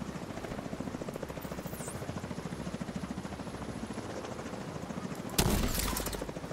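A helicopter in a video game thrums with a steady, rapid rotor chop throughout, loud and close, joined near the end by a sudden burst of gunfire or a blast.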